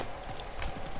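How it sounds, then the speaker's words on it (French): Horse hooves clip-clop in the video game Realm Royale, a brief quick run of close hoofbeats over steady game background. "Un cheval."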